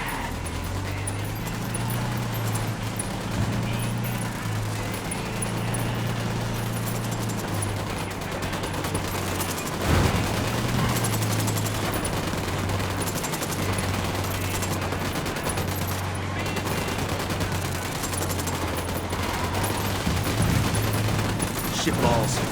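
Gunfire rolls through a Tom Clancy's Ghost Recon Wildlands battle as sustained bursts and scattered shots over a droning engine hum, with team voices talking over the shooting.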